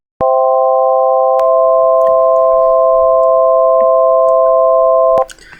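Synthesized tones generated by audio code sound a C chord as a steady, pure electronic drone of several stacked notes, loud and unbroken for about five seconds with a faint click as it starts and stops.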